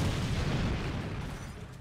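A grenade blast in GTA 5 during a haunted-house fight, a heavy, close boom that rolls out and slowly fades over about two seconds, with no talking.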